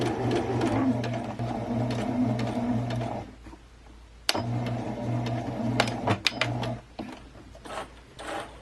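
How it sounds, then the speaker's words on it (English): Sewing machine stitching a fabric face mask, fast loud mechanical whirring in long runs with a short pause and a sharp click between, then a few shorter bursts and taps near the end. "Then you just want to sew at a 1/4 inch all the way down the line, minding the curves."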